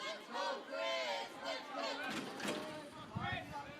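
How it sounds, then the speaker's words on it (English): A Manchester baseball crowd at a youth league world series game chants a rhythmic cheer for a batter named Chris, repeated shouted phrases from many voices at a moderate distance, mixed with scattered crowd noise. "Manchester crowd chanting, "Let's go, Chris, let's go.""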